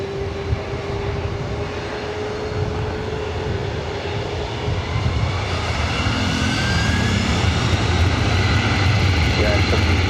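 A Delta heavy jet airliner takes off from runway 24 right at LAX, its engines producing a loud, sustained broadband roar that builds slightly, while radio chatter and talk run underneath.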